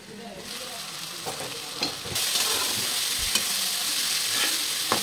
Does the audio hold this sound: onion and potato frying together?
yes